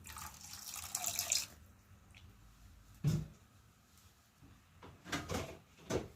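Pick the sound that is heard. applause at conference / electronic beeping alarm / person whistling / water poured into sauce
water poured into sauce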